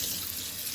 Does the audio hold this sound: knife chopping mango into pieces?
no